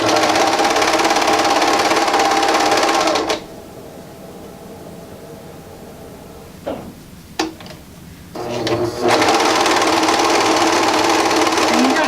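A serger runs loud and steady while sewing a faux fur seam for a knit beanie, stops for several seconds with a few small handling clicks, then starts up again at full speed.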